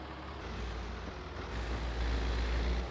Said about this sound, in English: let's get another tractor up and running